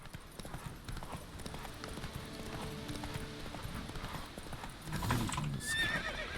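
Horse hooves clip-clop steadily on the ground in The Witcher 3, a continuous rhythmic trot at moderate loudness, followed near the end by a short whinny and rustling as the rider dismounts.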